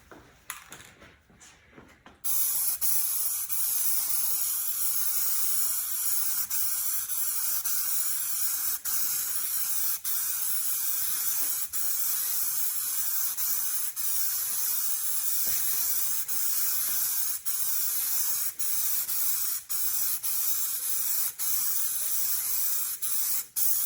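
Spray cans hiss steadily as metal flake paint goes onto a car, one long continuous spray close by after a brief rattle at the start, with small dips where the nozzle pauses.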